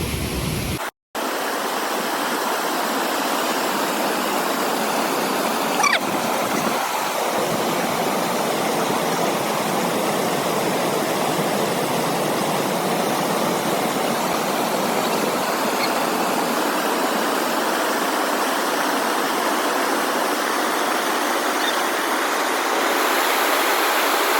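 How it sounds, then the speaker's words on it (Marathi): A monsoon jungle waterfall at Adrai roars as a steady, loud, close wash of falling water, alone with no talk for the whole stretch. "तर हा वॉटरफॉल आम्हाला क्रॉस करायचा."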